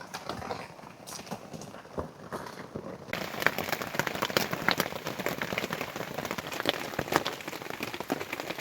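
Heavy night rain pours steadily around a treehouse at a forest campsite, a dense hiss of drops that thickens sharply partway through and keeps drumming loudly to the end, with no voices.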